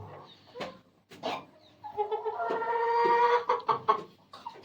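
Hens cluck nearby in short bursts, and one breaks into a longer drawn-out cackle, then the clucking resumes.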